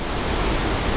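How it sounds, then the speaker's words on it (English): A waterfall in a wild gorge roars as a steady, broadband rush of falling water, loud and unbroken with no voices. "that down there is the main waterfall"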